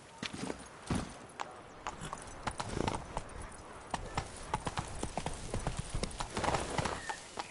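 Hooves of Roach, a horse in the video game The Witcher 3, clip-clop in a steady galloping rhythm, close and continuous, with a snort or whinny mixed in.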